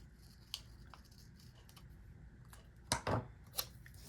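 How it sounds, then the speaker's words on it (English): Scissors snip through paper while small butterfly shapes are cut out for planner decorations. Faint, close cuts come in a quick cluster near the end, with a few soft ticks earlier in a quiet room. "Cut off the smallest ones."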